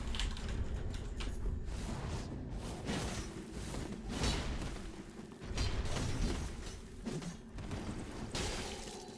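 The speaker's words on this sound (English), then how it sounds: "You heard my keyboard." Computer keyboard typing during a Dark Souls 3 session, rapid clattering keystrokes in uneven bursts mixed with game sounds, moderately close and fairly quiet, with no voices.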